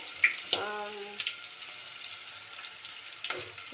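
Cumin, mustard seeds and onion hit hot oil with a quick sputtering burst and a short tonal clink, then settle into a soft steady sizzle before another brief clatter near the end.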